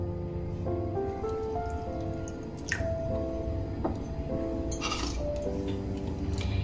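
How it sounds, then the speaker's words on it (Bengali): Water is poured into a yogurt and okra (dahi bhindi) dish, a steady close trickle with small clinks and drips throughout. "দিয়ে দেব বেশ কিছুটা জল।"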